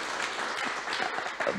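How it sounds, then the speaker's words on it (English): An audience at an investors summit gives a round of applause, a short burst of many hands clapping together, moderately loud and even, with no talk over it. "a big round of applause for"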